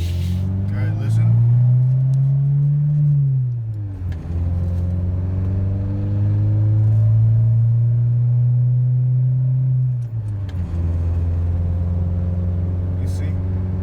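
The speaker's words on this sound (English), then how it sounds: "you can hear the motor" An older manual-transmission car engine hums loudly and close while driving, its pitch rising and falling through gear changes, a steady drone that drops twice as revs fall.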